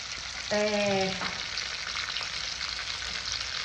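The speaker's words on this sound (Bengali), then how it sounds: "দেখি মাছটা কেমন হচ্ছে, মাছ ভাজাটা তোমাদেরও দেখে" Rohu fish frying in a pan gives a steady soft sizzle throughout, briefly broken by a short tonal clatter near the start.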